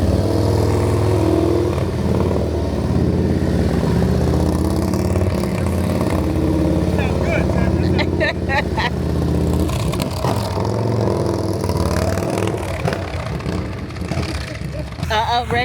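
A motorcycle engine rumbles close by and holds a steady, loud drone that shifts in pitch as the bike rides and maneuvers nearby, with higher revving notes toward the middle.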